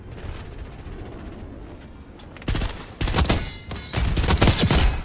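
Gunfire from a console shooter video game, marksman rifle fire played in crossplay, heard as loud bursts of rapid shots after a quieter lead-in.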